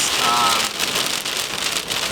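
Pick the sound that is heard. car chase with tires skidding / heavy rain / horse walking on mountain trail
heavy rain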